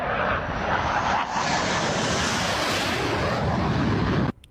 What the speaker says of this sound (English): Why do I hear a fighter jet like as though I'm standing on the ground overhead?